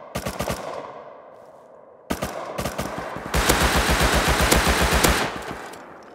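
Automatic gunfire in the video game Rust, several rapid bursts of close, loud shots separated by short pauses, ending in a long sustained volley.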